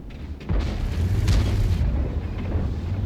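Tank cannon shot in a tank video game, likely from a T110E3, heard as a heavy boom with a deep rumbling tail that lingers loudly for a few seconds.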